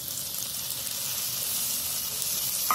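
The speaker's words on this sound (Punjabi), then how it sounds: "ਟਮਾਟਰ ਨੂੰ ਆਪਾਂ ਉਦੋਂ ਤੱਕ ਭੁੰਨਣਾ ਆ ਜਦੋਂ ਤੱਕ ਜਿਹੜਾ ਟਮਾਟਰ ਸਾਡਾ ਨਰਮ ਨਹੀਂ ਹੋ ਜਾਂਦਾ" Tomatoes fry in a pan over ginger and garlic that were already browned, giving a steady close sizzle and hiss throughout, with a brief clatter near the end, and no voices.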